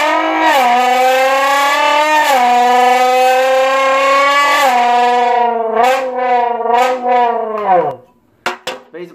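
A bent can imitates a Nissan GTR doing a 0-60 launch-control run, producing a loud, buzzy engine-like drone that rises in pitch in stepped, gear-shift-like surges, then stutters and cuts off near the end.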